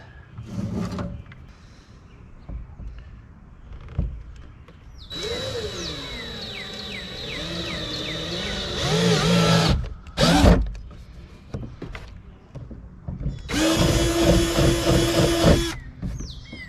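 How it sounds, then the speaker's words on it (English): Power drill with a 3/8-inch bit whirring in a couple of sustained bursts while drilling a hole in a kayak, with clatter and handling noises between runs, close up. "I need a 3/8 inch drill bit."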